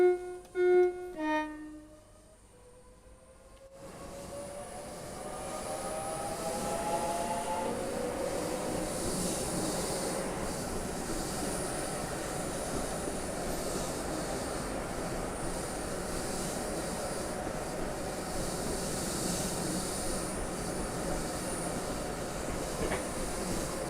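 A modded Class 165 diesel train in Train Sim World 4 rolls along with a steady rumbling drone and rail clatter, preceded by a brief pitched tone that rises before the running noise settles in.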